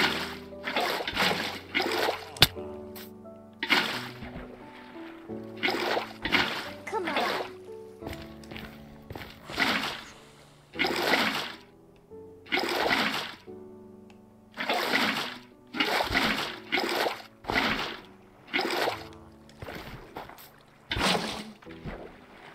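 Water splashing in the Minecraft video game, on top of a house, comes in repeated short bursts of sloshing, one after another with brief pauses, moderately loud over a low background tone.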